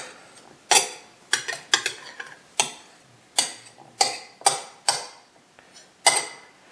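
Spoon stirring mustard in a bowl, a series of about ten sharp clinks and scrapes in an irregular rhythm, close and fairly loud, with no talking.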